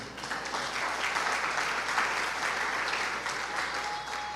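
A church congregation claps together in sustained, dense applause during a Pentecost service, swelling and then easing slightly, loud and close, with no speech over it.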